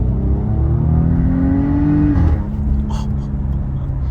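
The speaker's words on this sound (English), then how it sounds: "Get you a little acceleration here to hear the exhaust." A 2019 Porsche Cayenne engine revving hard with a rising exhaust note, then a quick shift and settling drone, loud and close inside the vehicle.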